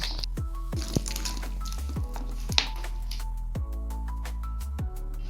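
Mung dal dough for fried puli pitha being kneaded by hand, with soft wet squishing and sticky pressing sounds that recur every second or so, close up, with a low steady hum underneath.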